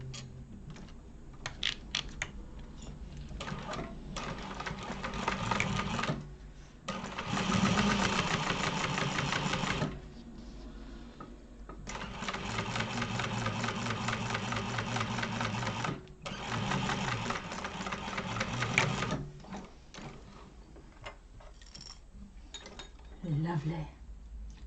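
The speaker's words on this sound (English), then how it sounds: "then top stitch through that seam" Sewing machine top stitching a seam on a Neo crossbody bag, running in long continuous stretches broken by short pauses, with its hum mixed with soft handling noises and occasional voice in the background.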